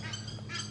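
A brief, harsh honk from an Egyptian goose, nasal and buzzy, with a second call rising near the end, fairly close.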